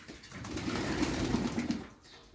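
A flock of homing pigeons being released in hot weather coos softly among a steady wash of wing flaps and outdoor noise, with the low calls repeating for a couple of seconds.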